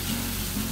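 T-bone steaks sizzle on a Blackstone griddle with asparagus cooking nearby, a steady, close broadband crackle and hiss that stays even throughout, without any speech.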